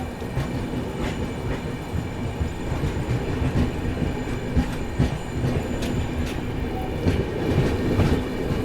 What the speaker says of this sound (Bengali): ট্রেনটা হেবি সুন্দর ঘুরছে, তো ইঞ্জিন দেখা যাচ্ছে।